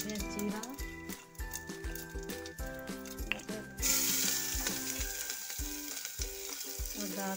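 Mustard and cumin seeds sizzle and crackle in hot oil in a home kitchen pan while making bottle gourd and chana dal curry, a steady frying hiss with a stronger burst partway through, set under music.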